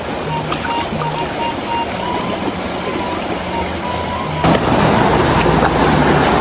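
A river that flash-flooded the day before flows with a steady broadband rush of water, close and continuous, growing noticeably louder for the final two seconds, with some faint hum underneath.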